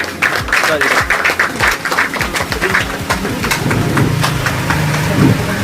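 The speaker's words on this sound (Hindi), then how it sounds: "हाथ ताली होना चाहिए।" Audience applause welcoming a guest at a public gathering, dense clapping that swells and continues over a low engine-like hum.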